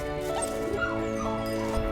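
A dog yips and whimpers in short, excited bursts close by, over a steady hum of background noise.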